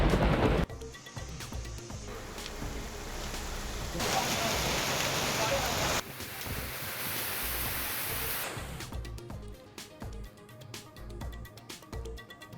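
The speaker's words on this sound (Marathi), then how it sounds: "पुण्याच्या वाघोली भोसरीमध्ये मुसळधार पाऊस" Heavy monsoon rain pours down in Wagholi and Bhosari, Pune: a loud, steady downpour hiss that rises and falls in intensity across several abrupt cuts, with faint background noise underneath.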